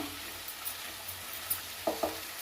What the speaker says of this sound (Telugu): ఇట్లా అంతా కలుపుకోవాలండి